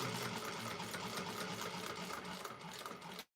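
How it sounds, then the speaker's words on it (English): Sewing machine top stitching a seam on a clutch wallet, a steady fast mechanical whirr with rhythmic needle ticking, close and continuous, stopping abruptly at the end. "You are top stitching the areas where we just made that"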